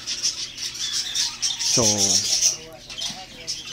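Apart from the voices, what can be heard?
pet parakeets and lovebirds chirping and squawking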